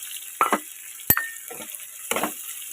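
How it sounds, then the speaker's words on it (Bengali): Two large onions, thinly sliced, fry in a pan for an egg and brinjal dish. Short sizzling bursts come with a few stirring scrapes and one sharp clink of utensil on pan, close and fairly quiet, with no talking. "এবার এর মধ্যে দিয়ে দেবো কোচানো পেঁয়াজ।"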